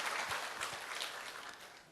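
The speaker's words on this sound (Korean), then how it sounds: "3부 예배 2분 등록하셨는데 환영하는 박수 한번 부탁합니다." Applause from a church congregation welcoming new members during a Sunday worship service, steady clapping from many hands filling the room at moderate level for the whole stretch, with no talk.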